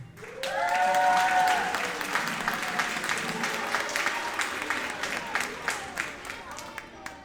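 Audience at a middle school fall band concert applauding the bass guitar player, a sustained, full wash of clapping with a few whoops and shouts, steady and fairly loud throughout.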